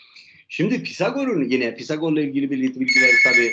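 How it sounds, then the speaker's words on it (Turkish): A telephone rings in a classroom-style lecture on ancient Greek philosophy, the electronic ring loud over continuous close speech by a man. "çok özür dilerim telefon."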